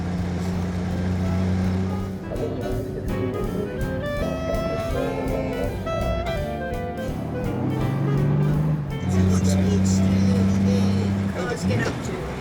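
Big race cars roaring past at speed on a country-house circuit, engines rising and falling in pitch as they sweep through, loud and close, with people talking over the noise.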